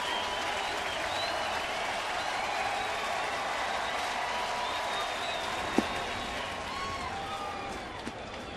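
A St. Louis ballpark crowd at a 2012 Cardinals–Marlins game stands and cheers, awaiting a Cardinals win: a steady, dense roar of voices and applause that holds evenly throughout, with one sharp crack near the end.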